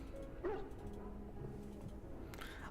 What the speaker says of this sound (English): I also hear dogs.